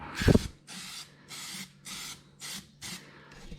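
Spray paint can hissing in short gentle bursts, about six close bursts evenly spaced with a click of the nozzle at the start.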